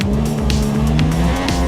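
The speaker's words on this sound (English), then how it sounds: "the car feels really good on the game, to be honest. A lot of grip." A racing car in a video game accelerates hard, its engine droning steadily and loudly while the tires squeal in repeated bursts through the corners, with no talking over it.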